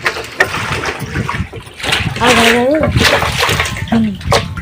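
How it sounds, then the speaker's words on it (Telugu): Water sloshes and splashes inside a large drum being washed up close in a village, while a person talks loudly over the noise. "నేను డ్రమ్ అయితే కడుగుతా పెద్ద డ్రమ్ అండి"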